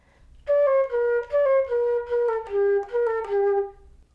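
A flute plays a single measure, about eight clear sustained notes in a steady stepwise line, close and alone with no talking.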